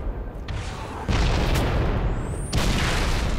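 Rocket launcher explosions in the video game Halo 3: two heavy, loud booms about a second and a half apart, each leaving a dense, roaring blast wash over steady game noise.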